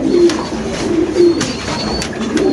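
Pigeons at a market coo in low, repeated throaty phrases, close and clear, several calls overlapping against a light background din.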